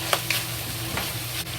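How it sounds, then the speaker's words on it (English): Ground beef frying slowly in a pan over medium heat: a steady soft sizzle with a few faint stirring scrapes, close and continuous. "Medium fire, slowly fry until the fatty come out from meat"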